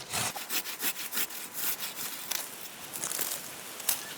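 A hand pruning saw cuts through an apple tree branch with steady back-and-forth rasping strokes, close and crisp, the rhythm quickening near the end.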